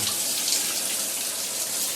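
A shower runs steadily, a close, continuous hiss of spraying water with no talking over it.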